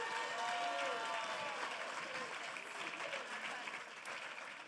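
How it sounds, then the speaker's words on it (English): An audience at a county Teacher of the Year celebration applauds educators, a continuous wash of clapping at a moderate distance with faint crowd murmur and a brief tonal sound early on. "Can we give them another round of applause?"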